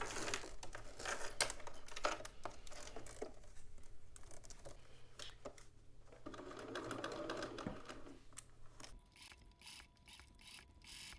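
A sewing machine stitches a zipper into a garment in quick, rattling mechanical bursts, stopping and restarting several times, close and fairly quiet, with soft fabric rustles between runs and no voices.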